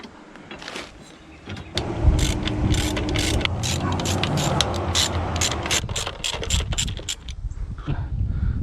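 Ratchet wrench clicking rapidly while loosening bolts on the intake of an LS-swapped Nissan 240SX, a close, steady run of sharp mechanical ticks that builds after a quieter start and continues to the end.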